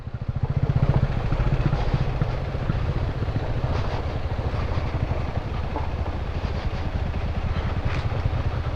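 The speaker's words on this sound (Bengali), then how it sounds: "বাইক আসছে, ওদিকে যেও না" A motorbike engine runs on a mountain trail, a steady low rumble that swells early and holds close throughout, with wind buffeting the microphone.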